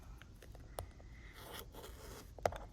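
A rotary cutter trims the sides of quilt fabric with quiet scraping and slicing strokes, punctuated by a couple of sharper clicks and rasps, close and soft with no talking.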